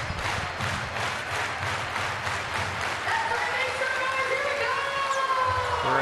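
A crowd cheers and roars at an Argentina vs France men's volleyball match, a VNL 2024 fourth-set game, with rhythmic clapping and chanting at first, then a sustained arena din with rising whistles.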